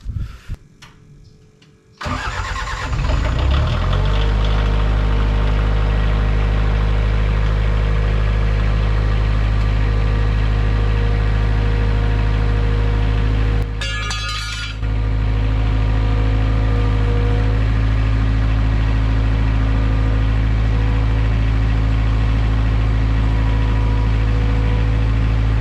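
A New Holland LX565 skid steer engine cranks briefly, catches and settles into a loud, steady diesel idle. A short dip in the drone comes partway through before the idle resumes.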